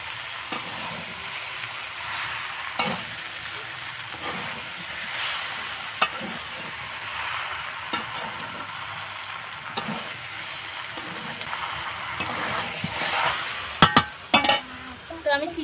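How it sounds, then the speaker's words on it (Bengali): Sugar is stirred into elephant apple pickle in a pan. A soft sizzle runs under repeated scraping strokes of a spoon, with occasional clinks against the metal and a sharper clatter near the end. "এইভাবে নাড়তে নাড়তে চিনিটা গলে যাবে।"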